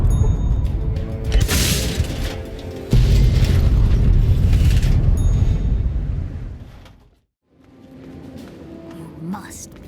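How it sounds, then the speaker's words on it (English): Mini nukes exploding in Fallout 3, heavy booming blasts with deep rumble that swell loudly, then fade out to near silence before quieter sounds return. "do what I did and climb up the ramp and drop some mini nukes on it from on high"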